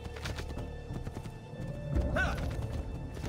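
Rhythmic hooves clip-clopping at a gallop with a brief whinny in Assassin's Creed II, set against a low game background rumble.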